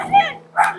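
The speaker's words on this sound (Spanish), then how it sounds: "espanta al perro" A dog barks twice outdoors in a village, two short, close barks about half a second apart, with voices of people nearby.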